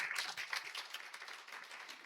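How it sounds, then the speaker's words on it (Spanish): Soft, rapid applause from a small group at a women's church meeting held in a home, many hands clapping together fairly quietly and evenly for about two seconds with no voices. "Le damos un aplauso a todas las que nos acompañan."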